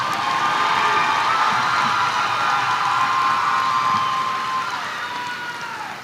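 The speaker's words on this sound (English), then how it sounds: "Please join me in giving the students in row 3 a round of applause" A crowd at the Pasquotank High School graduation cheers, whoops and claps for the graduates of row 3. The noise is a steady, loud wash that eases off in the final second.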